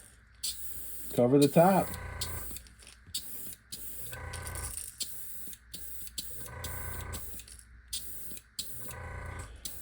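Bursts of hissing airbrush paint spray onto a fishing lure start and stop in short repeated spurts, with a person speaking briefly near the start.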